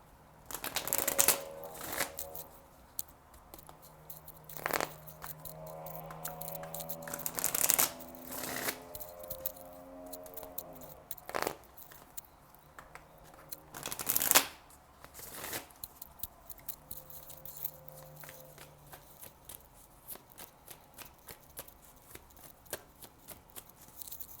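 Tarot cards are shuffled repeatedly in quick riffling bursts, close up and crisp, with short pauses and light handling sounds between shuffles.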